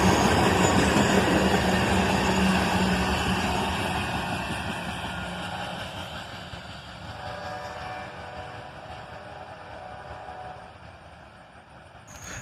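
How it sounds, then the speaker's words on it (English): A southbound CSX tanker train led by a pair of AC44CW locomotives rumbles past steadily, a broad continuous roar of engines and rolling cars that gradually eases in loudness as it moves on. "A pair of CSX AC44 CWs lead this southbound tanker train"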